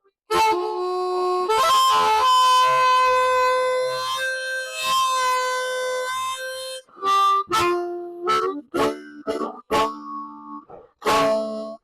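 A harmonica plays a pitch bend, the note starting low and sliding upward, in bright, loud sustained tones followed by a run of short punchy notes near the end, with no voices.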